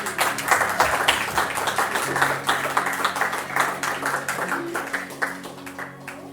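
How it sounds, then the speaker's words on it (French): A congregation applauds in a church, with many hands clapping in a lively, slightly rhythmic patter over a low sustained musical tone. "est-ce qu'on peut applaudir nos femmes déjà pour tout ce qu'elles ont fait?"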